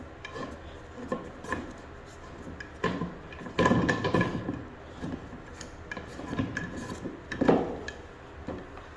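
A wooden newel post is twisted onto its fastener, giving a close, dry rubbing rasp of wood on wood in irregular bursts, louder around the middle and near the end, with no talking.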